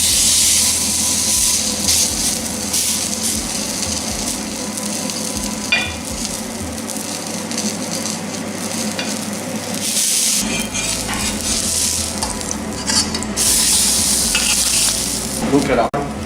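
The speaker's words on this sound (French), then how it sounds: "Rim va mettre sa galette à cuire." A vegetable patty sizzles and fries steadily in hot oil, with continuous close crackling and hissing plus occasional scraping stirs and spatters throughout.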